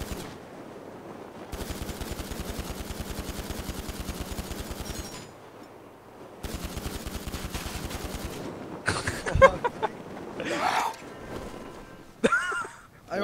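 Rapid automatic gunfire in GTA V Online, two long bursts of fast evenly spaced shots separated by a pause, followed by scattered louder single shots and impacts.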